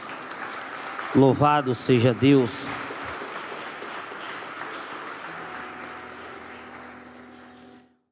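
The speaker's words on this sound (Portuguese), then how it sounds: "Você pode aplaudir o Senhor por esta palavra?" A church congregation applauds in a broad, reverberant wash of clapping that slowly fades away, after a voice speaks briefly near the start.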